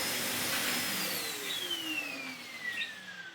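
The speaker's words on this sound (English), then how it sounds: "the motor is decent. Already blowing out quite warm air." A Sebo K3 Premium vacuum cleaner motor whirs steadily and close by, a whining tone sliding slowly downward as it runs, with no talking.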